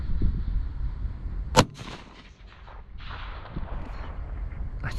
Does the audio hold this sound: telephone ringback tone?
no